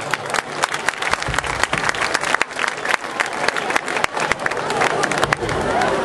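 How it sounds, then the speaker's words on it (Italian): A crowd at an outdoor summer festival applauds and cheers as a singer is introduced, with loud, dense clapping, sharp individual claps and crowd voices mixed in throughout. "Un applauso!"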